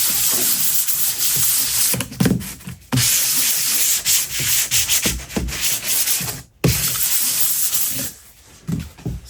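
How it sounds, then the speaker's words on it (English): Sandpaper lightly rubs across a coroplast prop surface in brisk, continuous strokes, close and steady with a few short pauses, no voices. "Just a little light sanding."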